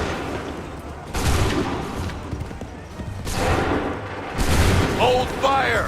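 Musket volleys crack out in the Assassin's Creed 3 video game, several loud bursts of massed gunfire rolling across a battlefield, with shouted commands heard between them.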